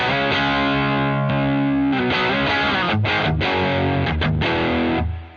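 A guitar amp tone with the Taurus Servo 2 wound all the way up rings out thick and distorted. Sustained chords are struck several times, loud and close, with no talk over them.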